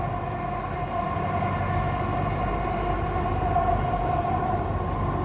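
Inside a Delhi metro train in motion, a steady rumble and rail noise runs without a break, with tonal hum bands on top. No one speaks.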